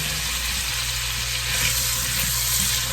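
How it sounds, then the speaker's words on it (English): Bacon frying in a deep pan on a stovetop, a dense, even crackling sizzle that stays loud and close throughout, with no voices. "you got all the bacon separated and in the pan. Now notice I'm cooking this in a deep pan."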